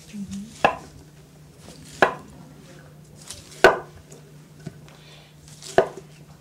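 A knife chops through cauliflower pieces on a board, five sharp, separate thuds spaced about a second or more apart, close and distinct over a quiet background with a faint steady hum.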